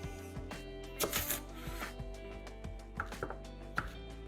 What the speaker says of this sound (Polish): pokroję je sobie teraz tak wzdłuż